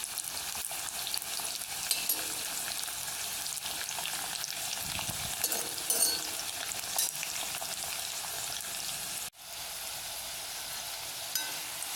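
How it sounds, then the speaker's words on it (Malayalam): Jackfruit pieces deep-frying in hot oil over a medium flame for crispy chakkavattal, a steady close hiss with occasional stirring scrapes and a brief dip near the end. "നമ്മൾ നല്ല ചൂടായ എണ്ണയിലോട്ടാണ് ഇട്ട് കൊടുത്തിരിക്കുന്നത്. ഇത് മീഡിയം ഫ്ലെയിമിലിട്ട് വേണം നല്ലതുപോലെ മുരിച്ചെടുക്കാൻ"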